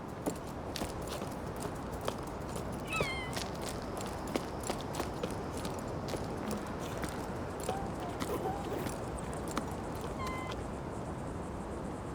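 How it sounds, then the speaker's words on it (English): Cats meowing in the climbing video game Jusant, a few brief, faint meows over steady cave ambience and repeated soft footstep-like ticks. "Cats."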